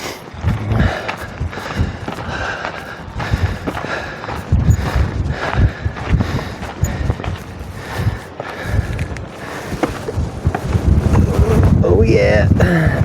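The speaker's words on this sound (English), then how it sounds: "I'm just waiting for this wind to hit me as soon as I get on that stile." Strong wind in the Mourne Mountains buffets the microphone throughout, roaring and gusting, growing heavier toward the end, with a voice speaking underneath.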